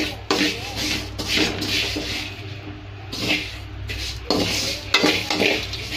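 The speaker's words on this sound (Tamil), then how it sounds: "இப்போ இதுலேயே வந்து சேமியா வறுத்துக்கலாம்." Vermicelli roasting in a pan for milk payasam, stirred with a utensil: close scraping and rubbing strokes with intermittent clinks against the metal pan, with a faint sizzle underneath.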